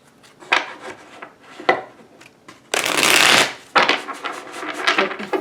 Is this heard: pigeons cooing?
no